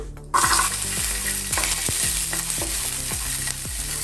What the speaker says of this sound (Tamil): இன்னும் கொஞ்சமாக எண்ணெய் விட்டுக்கோங்க. கொஞ்சம் போல் கொஞ்சமாக சின்ன வெங்காயம்